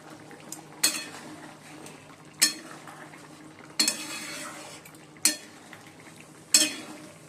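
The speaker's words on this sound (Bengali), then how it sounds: "ঝোলটা ফুটে গেছে এবার মাছের ডিমগুলো দিয়ে দিচ্ছি" A fish curry boils in a pot as fish roe is added, heard as a low simmering bed broken by five or six sharp metallic clinks and scrapes of a utensil against the pot at irregular intervals.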